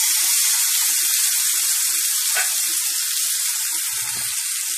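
Crushed tomatoes (three, mashed) hitting a hot pan for an onion-garlic kuzhambu, giving a steady broad sizzle throughout with faint clinks of stirring, no voices.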